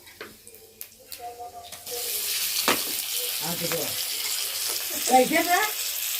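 Chicken lands in a pan of fried ginger garlic paste with onion and green chilli, and a steady sizzle swells up, broken by scraping stir strokes, after a few quiet kitchen clinks.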